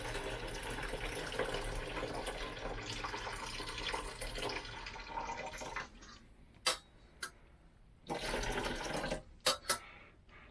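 Hot pasta water pouring from a cooking pot into a drain for about six seconds, a continuous splashing gush that cuts off, followed by a few sharp metallic knocks and clatters of the pot.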